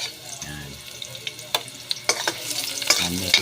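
Onions sautéed and stirred with fish for laing, heard as close scraping and clattering stirring over a faint sizzle, with short bursts of a voice.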